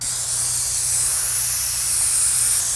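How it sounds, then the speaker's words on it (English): Wood stain misted onto logs with a sprayer, a steady, loud, continuous hiss of spray running throughout with no pauses, alone and without voices. "you can mist over it again a little bit with another coat of the stain"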